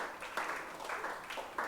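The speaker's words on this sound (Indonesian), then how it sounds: "Sekali lagi kita kasih tepuk tangan buat Aquila." A few people clap faintly in quick, sparse bursts, sounding like a small group at a modest distance, brief and thin rather than a full round of applause.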